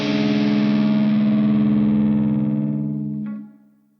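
Opening riff of a song: a heavily distorted electric guitar chord rings out loud and sustained, slowly decaying and fading away after about three seconds.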